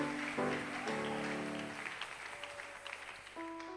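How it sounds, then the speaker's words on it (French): A church congregation claps for the pastor, a steady wash of applause over held musical tones, fairly soft and continuous throughout. "est-ce qu'on peut acclamer pour notre papa?"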